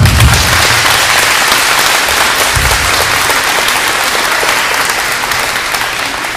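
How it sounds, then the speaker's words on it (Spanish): A church congregation at Nueva Vida in Carson City, Nevada, claps in sustained, dense applause, loud and steady, slowly easing toward the end. "Un aplauso al Señor."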